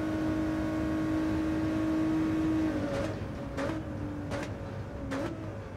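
American race car engine on the Daytona circuit in Gran Turismo 7, a steady loud drone holding pitch, then dipping and rising four times in quick succession as the car brakes and accelerates through corners.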